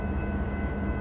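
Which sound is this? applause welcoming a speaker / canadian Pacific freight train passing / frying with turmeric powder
canadian Pacific freight train passing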